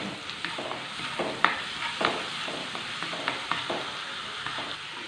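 Chilli-ginger paste sautéing in coconut oil in a pan, a steady close sizzle broken by repeated scraping stirs of a spoon against the pan, with no talking.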